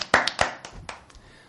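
A brief smattering of hand claps from a small radio-studio audience, a few sharp close claps that quickly thin out and fade within a second and a half.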